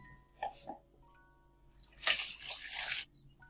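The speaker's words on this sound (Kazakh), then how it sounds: "мен айранды мынандай полторашкаға құйып ұйытамын" Homemade ayran is poured into a plastic 1.5-litre bottle: a couple of soft liquid drips, then a close, gurgling stream that lasts about a second before stopping, in an otherwise quiet room.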